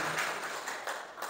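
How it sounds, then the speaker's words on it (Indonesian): A church congregation claps together during a worship service, a dense, steady wash of applause with a few slightly louder surges, heard alone without talk. "Kita beri tepuk tangan sekali lagi."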